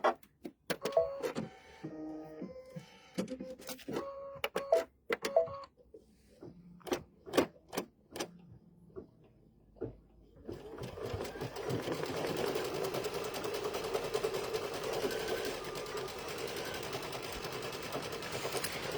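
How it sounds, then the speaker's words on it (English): An embroidery machine stitches yellow thread flowers for an Easter bunny coaster, its needle starting in short rapid bursts with pauses before settling into a steady, fast mechanical whir, close and clear with no talk. "now we are going to put yellow thread in the machine and we're going to stitch out the"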